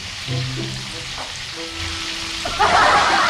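Food sizzles in hot oil, a steady crackling hiss that swells louder near the end, with faint talk and low background tones.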